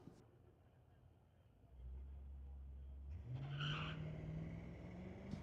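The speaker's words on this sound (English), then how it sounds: "the first one up in a 2004 Mustang, going up against Ian Dalla with a 2015 Acura" A 2004 Mustang and a 2015 Acura at a drag strip on street-legal night, engines droning low and then rising in pitch as a car launches and accelerates, heard from a moderate distance with faint voices nearby.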